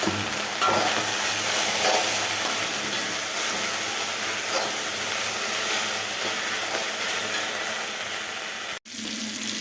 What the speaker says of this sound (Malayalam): എണ്ണ ചൂടായി വന്നു മീനിടാനായിട്ട്